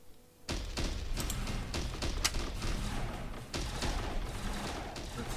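Small fighters in the StarDrive space strategy game blast away with shotguns in a dense, continuous barrage of overlapping booms and cracks, loud throughout with a short lull partway.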